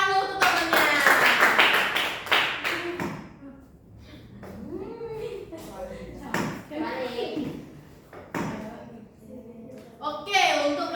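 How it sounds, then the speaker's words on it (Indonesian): A classroom of students claps for a classmate in a quick rhythmic burst for the first couple of seconds. A teacher then talks, with a few scattered taps and claps near the end. "kita tepuk tangan dulu untuk temannya"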